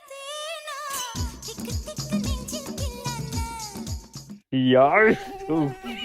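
Mosquito buzzing is mimicked by a voice in a stretch of whiny, wavering tones, with a sharper, louder burst of buzzing near the end of the short comedy skit.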